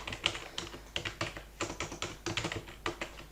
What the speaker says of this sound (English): you just have to type in Southern New Hampshire